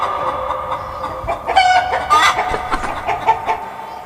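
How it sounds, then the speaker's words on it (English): A hen clucks in a run of short, sharp calls against a steady background, fairly close and with no talking. "H for hen."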